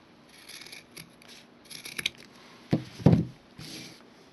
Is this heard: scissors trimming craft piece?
yes